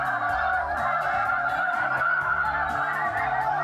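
A large flock of geese honks steadily and loudly throughout, overlapping calls layered into a continuous clamor during a waterfowl hunt.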